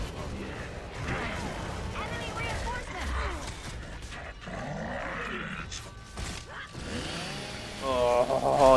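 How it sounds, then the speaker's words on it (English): Chainsaw weapon revving and grinding amid combat in Gears of War 3, loud mechanical whine with clanks and gunfire, mixed under a man's speech. "still scared to chainsaw someone again."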